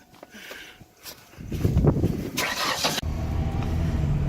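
A car engine, a vehicle nicknamed the Danger Ranger, cranks and catches, then runs with a steady rumble close by after a few clicks and thumps.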